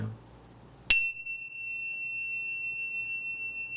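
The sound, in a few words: bells ringing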